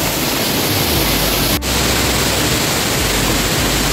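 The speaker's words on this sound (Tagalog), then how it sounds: "makikita nyo talaga ang ganda ng falls" Mimbalot Falls in Buruun, Iligan City, roars as a steady, loud, broadband rush of falling water that fills the whole stretch without letup.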